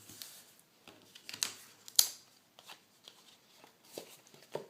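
Scissors snip through a paper strip for a balloon shaker card, a few soft, close, crisp cuts with light rustling of paper between them, faint and intermittent with no voices.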